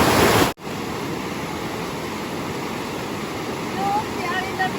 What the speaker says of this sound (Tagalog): Sarap pakinggan ng sound ng tubig.